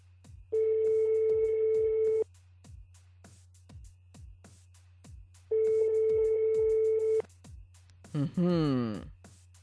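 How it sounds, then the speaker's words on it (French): Ringback tone of an outgoing telephone call, heard during a French radio broadcast on a public holiday: two long, steady electronic tone bursts separated by a pause over a regular ticking background, followed by a voice speaking at the end. "Est-ce que ça sonne?"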